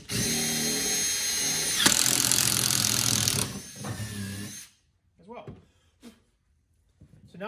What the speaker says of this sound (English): I'm gonna make sure I also drill in the top of my tree hanging post.